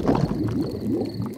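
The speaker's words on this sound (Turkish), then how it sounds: "Mide gurultum doğanın en güzel seslerinden biri." A cartoon stomach rumbles in a low, bubbly gurgle that wobbles for a second or so, steady and fairly loud with no voices over it.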